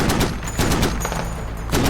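Gunfire from the tactical shooter Squad, with dense bursts of rapid shots running through the whole stretch, loud and close, and a fresh volley near the end.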